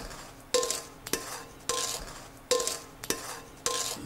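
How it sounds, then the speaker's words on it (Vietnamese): Sugar-marinated bananas stirred in a cooking pot for Vietnamese banana coconut tapioca pudding, giving about five sharp utensil scrapes and knocks against the pot in a steady rhythm, close and clear with no talking. "Mình cho chuối vào nồi để sên chuối nha."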